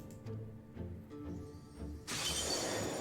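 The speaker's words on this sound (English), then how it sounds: "And then they shatter and become butterflies flying away." Light vines wrapped around a gunblade shatter in Final Fantasy XIV, a sudden bright crystalline burst that follows a quieter stretch of soft game music and lingers as a shimmering wash.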